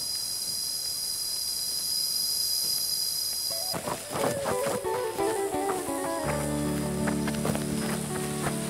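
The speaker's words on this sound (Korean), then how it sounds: "아프리카에서 생각지 못한 매미 소리를 들으니" A steady high-pitched buzzing drone of cicadas fills the background in a South African canyon, continuing under clattering, thumping movement noises and tonal sounds.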